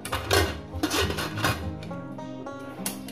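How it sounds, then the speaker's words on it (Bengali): A metal pressure cooker lid is handled and locked shut over potatoes and chicken pieces for chicken curry, giving several sharp clanks and scrapes against the pot with a ringing metallic tone, close and fairly loud. "এবার আমি প্রেসার কুকারের ঢাকনাটা মুড়ে দিলাম।"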